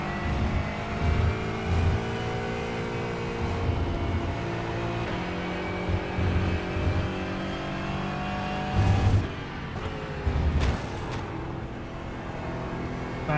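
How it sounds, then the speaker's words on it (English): A race car engine in Gran Turismo 4 at Jerez revs and accelerates in a sustained loud drone, rising through gears with brief dips and surges at shifts. "Gets on the gas so quick."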